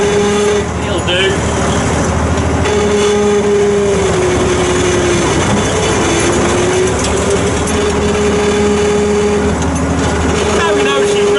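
An abandoned bulldozer's engine idles steadily and loudly at close range, with a continuous drone for the whole stretch and voices talking over it.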